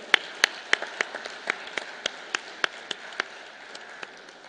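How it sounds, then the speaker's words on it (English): Scattered, sparse hand claps ring out in an uneven rhythm, a small group applauding briefly at an awards ceremony with no voices over it. "So big round of applause, guys."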